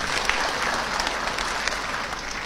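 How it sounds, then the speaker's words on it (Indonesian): Steady applause from an audience honouring Dato Sri Anwar Ibrahim, dense continuous clapping filling the space at a moderate, even level with no pauses. "Boleh tepuk tangan untuk Datuk Anwar."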